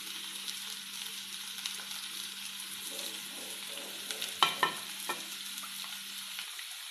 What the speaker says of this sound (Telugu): అందులో బిర్యానీ ఆకు, లవంగం, చెక్క వేసుకుంటున్నాను. ఉల్లిపాయలు కూడా తరిగిన వేసుకుంటున్నాను.